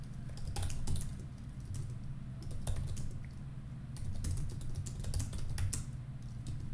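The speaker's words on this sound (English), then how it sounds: "So if we just type something, you know, in here in this chat" Typing on a computer keyboard in a chat window, a close, steady patter of key clicks with a few louder strokes over a low background hum, no one speaking.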